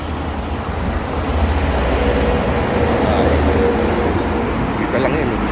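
Train in Tokyo rumbling along, a dense steady rolling roar of wheels and carriage noise close by with a faint whine, loud and continuous throughout.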